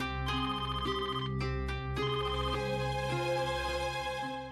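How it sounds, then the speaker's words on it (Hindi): A telephone rings continuously with a bright, repeating electronic bell tone, close and steady throughout, no voices. "इतनी रात को किसका फोन हो सकता है?"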